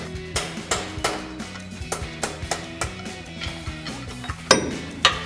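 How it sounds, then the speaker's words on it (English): Metal hammer taps on a RAM 1500 front CV axle shaft, knocking it out of the hub assembly: a steady run of sharp ringing clinks, close and fairly loud, with one or two heavier blows near the end. "Just gonna tap it back out again."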